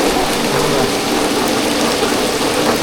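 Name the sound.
continuous rain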